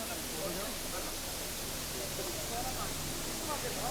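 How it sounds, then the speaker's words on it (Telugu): A waterfall on the mountain trek to Kedarnath roars as a constant broadband hiss, steady and unbroken, with no other sounds standing out. "ఇప్పుడే అట్లా నడుచుకుంటూ వచ్చి వాటర్ ఫాల్స్ కనబడ్డాయని ఆపినాం"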